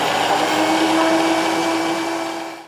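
A blender whirs steadily while blending a wet vegan kofta mix of spiced plant-based sausage, a loud continuous motor drone with a strong hum that runs for nearly three seconds, then begins to wind down at the end.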